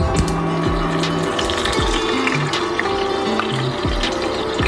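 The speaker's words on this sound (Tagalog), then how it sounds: "Lagay muna tayo ng oil." Cooking oil pouring and sizzling into a pan on a home stove before chicken is fried, a continuous bubbling, watery wash with small gurgles throughout, close and fairly loud.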